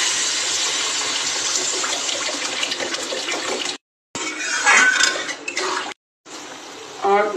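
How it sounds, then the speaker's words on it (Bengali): Water poured into a curry of ginger-onion paste and salt cooking in a pan in an egg omelette curry, a steady broadband rush of pouring and sizzling running for several seconds, broken by two short gaps, then resuming with stirring clatter. "আমি জল দিয়ে দিচ্ছি।"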